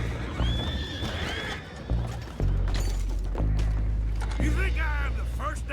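Red Dead Redemption video game horses neighing and whinnying, with clip-clop hooves and steady rumbling game ambience beneath; several loud whinnies rise and fall, the last near the end.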